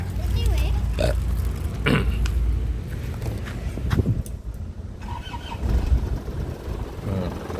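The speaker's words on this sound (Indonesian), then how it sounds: "Sekarang kita cek, kita nyalakan mesinnya dulu ya." A 2004 Isuzu Panther's engine cranks and fires up, the rough starter turning over and settling into a low idle close by, with people talking throughout.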